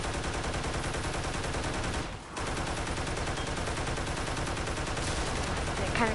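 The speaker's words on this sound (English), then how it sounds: "if you shoot the bridge enough, pieces of it start popping off" Rapid turret gunfire in the Toy Soldiers video game chips pieces off a bridge, a dense, steady stream of shots with one brief dip before the firing resumes.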